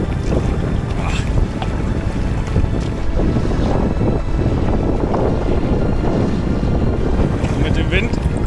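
Wind and choppy waves on Lake Saimaa during a canoe trip, with a steady broadband rush of gusting air and water slapping against the canoe, loud and continuous throughout.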